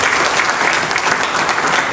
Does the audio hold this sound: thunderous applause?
yes